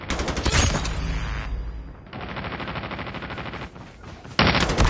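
Rapid bursts of gunfire in a Call of Duty match, with a sniper among the shooters. Loud repeated shots and volleys run through the clip, with a denser burst near the end.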